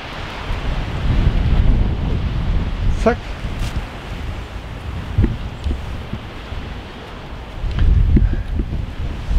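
Gusty wind blows outdoors behind a house on a lawn, a steady broadband rush that swells and eases in waves, with a voice speaking briefly over it.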